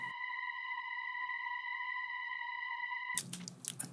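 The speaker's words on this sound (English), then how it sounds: "Then the drone, added some drones." Synth drones layered into a house-music remix: a steady, sustained buzzing tone holds for about three seconds, then breaks into a brief noisy, airy burst.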